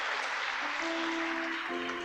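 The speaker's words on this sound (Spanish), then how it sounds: "Un aplauso a Dios" Church congregation applauding, a steady dense wash of clapping that fills the moment, with a sustained musical tone beneath it and no clear speech.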